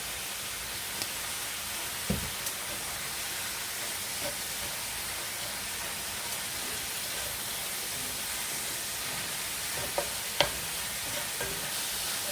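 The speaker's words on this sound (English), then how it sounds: "Cook out some of this moisture before I put my veggies in" Taco filling cooking down its moisture in a pan with extra chili powder, a quiet steady sizzle with a few soft scrapes and clinks of stirring scattered throughout.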